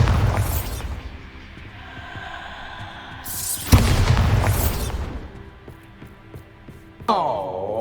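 A Bombarda spell detonates in Hogwarts Legacy, giving two deep booming blasts with rumbling low-end decay, the second followed by a lingering throb before a bright swelling tone at the end.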